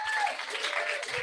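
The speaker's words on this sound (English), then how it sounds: "So give yourselves a round of applause for being here tonight." An audience at an evening book club event applauds in a short, steady burst of clapping, close and even in loudness, with no voices over it.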